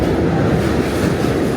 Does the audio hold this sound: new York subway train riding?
yes